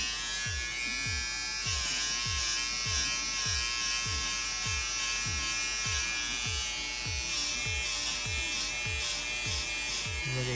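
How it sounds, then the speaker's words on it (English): A handheld electric shaver, a cheap store-bought clipper, buzzes steadily close up while clearing a dog's belly for an ultrasound scan, with a rhythmic pulsing as the blades pass repeatedly over the fur. "You can pick up one of these shavers at like a Walmart or something."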